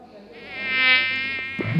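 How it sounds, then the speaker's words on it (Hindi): A mosquito's high-pitched whine hovers close by, swelling louder and then fading slightly, steady and sustained with no speech over it, ending in a brief rustle. "कान में मच्छर घुसा"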